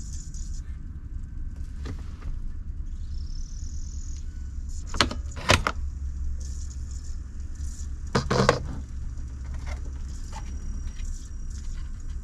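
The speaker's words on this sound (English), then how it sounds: "I can hear something making noise in the cluster. Hopefully it's just the motors." Faint whirring of BMW E90 instrument cluster dial motors from a car with water damage, a low steady hum with a few brief mechanical clicks and clunks, no talk.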